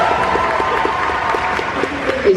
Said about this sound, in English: Round of applause for the hat,